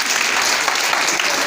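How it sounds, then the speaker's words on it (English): An audience claps steadily and loudly at a free JAMB training programme event, a dense, continuous round of applause with no voices over it. "Another round of applause for him."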